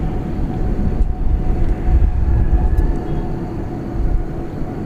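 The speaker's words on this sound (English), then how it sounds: "Let's see if we can catch the American Airlines flight going out right now to London Heathrow." A steady, low roar from an American Airlines Boeing 777 departing for London Heathrow at Dallas Fort Worth International Airport at night, heard at a distance as a sustained rumble that swells slightly, with no talk.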